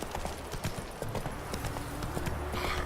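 Horse hooves galloping in the video game The Witcher 3, a steady rapid clip-clop of hoofbeats throughout with faint game sounds in the background.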